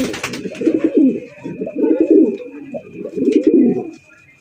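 Giribaz high-flying pigeons coo up close, giving three loud, throaty rolling bursts with short pauses between and a brief chirp at the very start.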